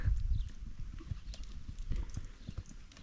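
Hooves of a small, spirited pony clip-clopping as it is ridden, a steady close rhythm of thudding steps with faint background noise.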